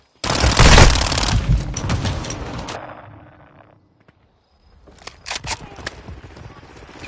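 A loud, close burst of rapid gunfire in a Modern Warfare match tails off into quiet, then lighter shots return, with a voice speaking.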